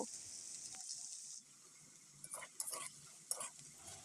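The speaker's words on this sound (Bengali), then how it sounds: "এর মধ্যে আমি পেঁয়াজ কুচি দিয়ে দিলাম দিয়ে এটাকে আমি সুন্দর করে ভেজে নেব" Green chillies and chopped onion fry quietly in oil with a faint, steady sizzle, followed by a few soft scraping stirs of a spoon in the pan.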